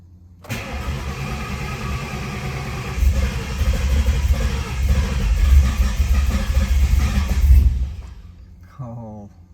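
A 2003 Ford Cobra engine cranks and catches, then idles roughly and unevenly with a deep, loud rumble for several seconds before cutting off.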